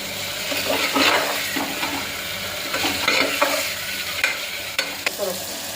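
Peanuts drop into a hot tempering for khichdi, a loud, close sizzle and crackle with stirring scrapes and occasional sharp pops throughout.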